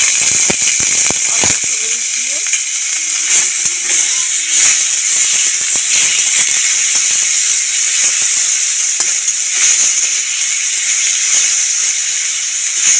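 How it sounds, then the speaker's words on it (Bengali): Prawns frying in hot mustard oil in a pan, a steady close sizzle and hiss running throughout with occasional stirring clicks and a faint voice in the background. "তেলের মধ্যে প্রথমে আমি ফুল চিংড়িগুলোকে ভেজে নেব।"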